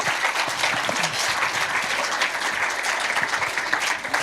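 Steady, full audience applause at the end of a podcast episode, a dense even patter of many hands clapping throughout without pauses.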